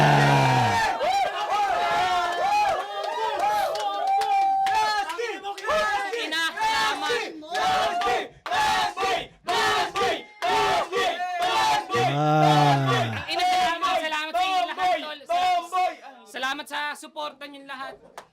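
A rap battle crowd roars, whoops and chants for Class G after a 7-0 judges' vote, with loud surging cheers and an announcer's amplified voice cutting through repeatedly.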